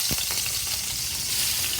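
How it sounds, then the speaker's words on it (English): Shrimp sizzle in a hot pan over high heat, a loud, dense, continuous crackle with a brief thump at the start and no talking. "The first thing we're gonna do here is get our shrimp into the pan."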